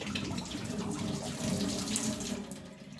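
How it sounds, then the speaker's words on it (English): Water spraying out of a Pinter home-brewing keg as its conical is released, a steady hissing gush of liquid lasting a few seconds, close and fairly quiet with no talking. "Sometimes you might get a bit of a spray of like water come out of it as the conical pushes itself back in."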